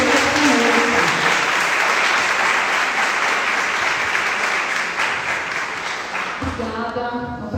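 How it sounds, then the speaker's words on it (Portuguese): Sustained audience applause welcoming a speaker at an evening lecture, dense and loud clapping for several seconds that thins toward the end as a voice begins. "Recebam uma salva de palmas"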